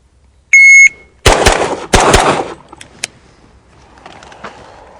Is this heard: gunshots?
yes